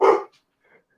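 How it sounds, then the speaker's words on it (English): One sharp, close dog bark bursts out at the start, then fades to near silence with a faint trailing yip. "My dog's starting to go a little crazy over there"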